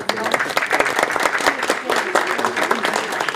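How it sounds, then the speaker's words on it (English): People at a school board of education meeting give a short round of applause, close and fairly loud, with sharp individual claps standing out in an uneven patter. "I'd like just some applause here."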